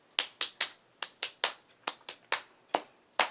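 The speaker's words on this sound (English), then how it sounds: "It is clap, pat, pat, clap, pat, pat, clap, pat, pat, side," A crisp sequence of about fourteen sharp hand claps and slaps on the legs, close and fairly loud, in a quick, slightly uneven rhythmic pattern with brief gaps, no voices heard.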